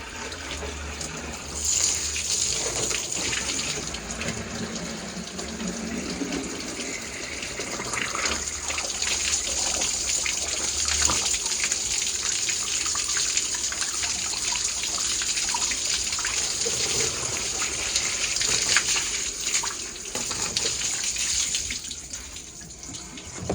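Tap water runs steadily into a sink for rinsing, a continuous close gush with no talk over it.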